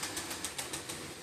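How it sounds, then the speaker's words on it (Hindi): Pigeons landing on a rooftop, with a quick series of soft wingbeat flutters at an even rhythm over a constant background hiss. "अब एक और कबूतर नीचे आ रहे माशाल्लाह।"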